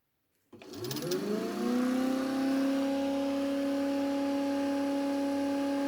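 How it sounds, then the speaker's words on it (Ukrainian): A generator is switched on with a sudden onset, then winds up in a rising whir that settles into a loud, steady, tonal hum and holds there. "І включаємо знову ж таки генератор."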